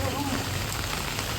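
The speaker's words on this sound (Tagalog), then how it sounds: "Ulan na." Rain falls steadily outdoors in a garden where winged beans are being picked, a dense, even hiss of drops hitting surfaces that runs unbroken throughout, with no voices over it.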